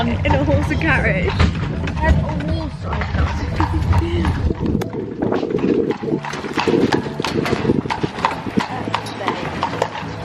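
Horse-drawn carriage on a Dublin street, with steady rhythmic hoof clip-clops ringing close and clear, and voices talking over the first half.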